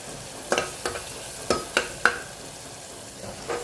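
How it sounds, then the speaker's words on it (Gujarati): Cabbage and tomatoes stirred in a frying pan: half a dozen spoon scrapes and taps at uneven intervals over a faint steady sizzle, with no talk. "પછી કોબીજ એડ કરીએ."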